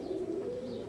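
Birmingham roller pigeons coo in a low, steady, continuous murmur, close by and alone, with no talking over it.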